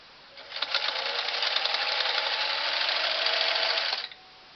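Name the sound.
Singer 457 Stylist sewing machine sewing thick layers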